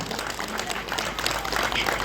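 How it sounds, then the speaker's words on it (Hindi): Audience applause at a state award ceremony marking the Uttarakhand silver jubilee, as medals for meritorious service are presented; a steady, dense wash of clapping from a large crowd holds for the whole stretch without pause. "जोरदार तालियां बजाते रहें।"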